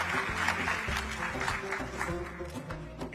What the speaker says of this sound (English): Please a round of applause for our panelists